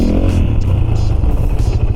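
A Husqvarna FE450 dirt bike roars steadily and close by while being ridden, with rough mechanical clatter over the engine drone throughout.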